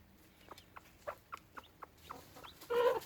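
Chickens cluck in short, soft bursts at an uneven pace, close by in a quiet space, ending with a louder, brighter squawk.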